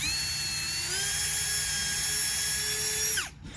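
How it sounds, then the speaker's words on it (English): A high-pitched power drill whines steadily for about three seconds at close range, boring a pilot hole in pallet wood, its pitch rising slightly, then winds down and stops. "Drill my pilot hole."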